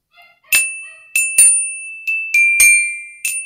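A metallophone is struck with a mallet about seven times in an irregular sequence, each bright, ringing note sounding close and loud and then decaying with a long sustain.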